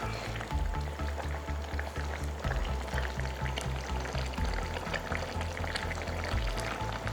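Polos jackfruit curry sizzles and bubbles in oil in a pot, making a steady frying hiss under loud rhythmic background music.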